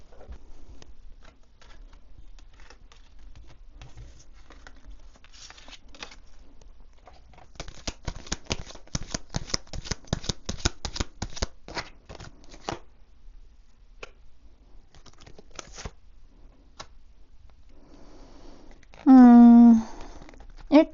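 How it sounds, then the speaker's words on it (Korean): Tarot cards are shuffled in a quiet room, with a dense burst of riffling and flicking in the middle and softer scattered card handling around it, while a voice speaks at times. "조언의 카드를 2장만 더 뽑아보도록 할게요"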